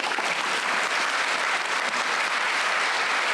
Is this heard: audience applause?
yes